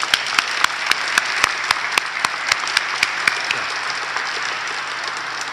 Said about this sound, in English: How about let's have a round of applause for all of our excellent speakers today